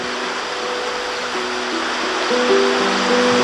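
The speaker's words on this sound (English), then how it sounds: "the only sound is the rush of water hurrying from one side to the other of this tiny watch pocket park" A small stream rushing beneath a covered bridge on a quiet autumn country road, a loud, steady broadband wash of water with faint tonal music lines laid over it.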